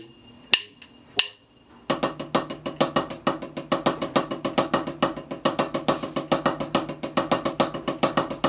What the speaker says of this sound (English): So the first, the second, and the fourth note of the double paradiddle.